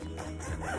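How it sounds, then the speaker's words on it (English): A zipper being pulled along a soft fabric storage bag, a short continuous rasping slide lasting under a second, close and moderately loud with no talking. "it comes with a zipper here"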